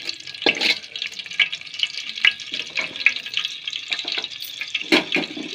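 Oil heats and sizzles in a pan for fenugreek leaf chutney, a close, crackling fry with irregular spits and stirring sounds throughout.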